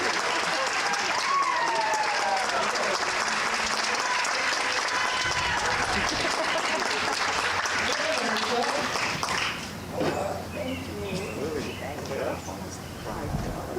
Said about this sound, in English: So one more amazing round of applause for Lisa Geyer.